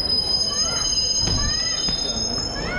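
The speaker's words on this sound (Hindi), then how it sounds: "तो गाइस, अपन लोग पहुंच चुके हैं पठानकोट रेलवे स्टेशन, मतलब ये है पठानकोट, और हाँ ये थी अपनी ट्रेन।" Train at Pathankot railway station in India, a steady loud rumble with high metallic wheel squeals and tonal whines rising over it as the cars roll slowly alongside the platform.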